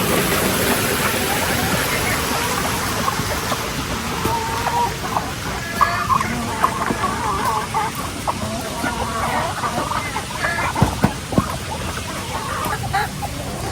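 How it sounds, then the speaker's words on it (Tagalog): Domestic chickens and chicks cluck and murmur steadily close by while being fed rice husks, amid a busy, rustling background, with occasional louder squawks. "Nagpapakain lang po si Bossing ng mga alagang manok at baby."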